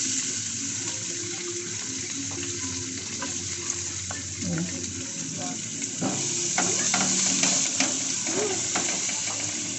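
Garlic sautéing in hot Star margarine gives a steady, close sizzle that runs throughout, with scattered stirring scrapes and light clicks over the top and no talking.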